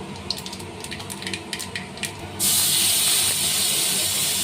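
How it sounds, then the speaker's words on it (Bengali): Black cumin seeds drop into hot oil in a village kitchen pan for a rohu fish curry. Light clatter comes first, then a sudden loud, steady sizzling hiss takes over halfway through and keeps going. "এখন আমি তেলের মধ্যে কালো জিরে দিয়ে দিচ্ছি"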